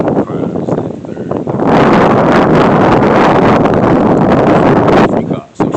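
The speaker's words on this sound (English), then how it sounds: "Sorry, it's windy out here." Heavy wind buffeting a microphone during an outdoor street interview in Prince George's County, Maryland, a loud broadband roar that swells and holds steady for several seconds before briefly dropping away.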